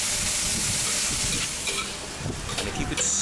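Nasi goreng fries with tomato and fish sauce over turned-up heat at a Bali street-food warung, a dense, steady sizzling hiss filling the whole stretch without a break.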